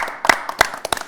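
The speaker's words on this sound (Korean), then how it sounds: "이가람 매니저님 먼저 박수 한번 보내주시면 너무 좋을 것 같습니다" A few scattered claps on a Korean television investment show, about five sharp separate hits in just over a second, close and fairly light.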